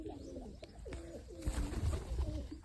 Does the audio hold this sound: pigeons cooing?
yes